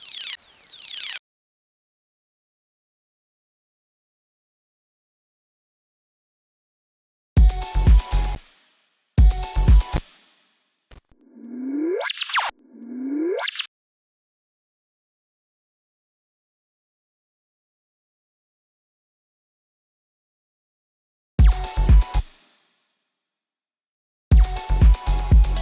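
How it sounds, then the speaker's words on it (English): Synthesized laser sound effects for a deep house track built in FL Studio: several short, sharp zapping bursts with sweeping pitch, played alone and separated by stretches of silence. "Another important element is some laser sounds like this."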